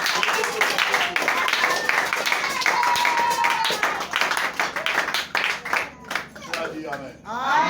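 A church congregation claps and cheers in praise at a blessing service, with a dense run of rhythmic handclaps mixed with voices and singing. The claps thin out toward the end.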